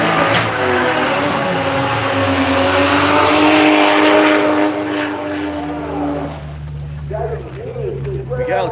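A drag car does an eighth-mile burnout at a street machine drag challenge: a loud, sustained roar with tire screech that holds for about six seconds, then falls to a lower, rumbling idle.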